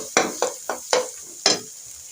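Egg and onion cooking together in a pan, heard as five sharp, close stirring scrapes at a quick, uneven rhythm over a soft sizzle.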